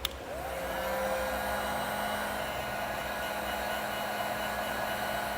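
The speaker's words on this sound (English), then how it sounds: "we'll take our heat gun to this and seal that up" A heat gun shrinks and seals a heat-shrink crimp connector on a Curt T-connector trailer wiring harness for a 2022 Jeep, giving a steady, moderately loud blowing whir with a faint tonal hum and no talking.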